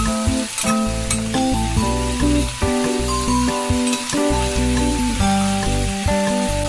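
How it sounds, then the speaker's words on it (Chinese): Abalone pan-frying in hot oil beside chicken pushed to one side of the pan, a dense steady sizzle with occasional stirring clinks, heard under background music. "一面煎香后再给它翻一面"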